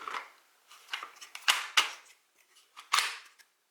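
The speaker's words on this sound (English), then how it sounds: "go ahead and put the pistol in" A Glock 17 pistol is slid and locked into a Micro RONI conversion kit, producing a quick series of close, crisp plastic and metal clicks and snaps, with a few louder latching clacks in a short burst.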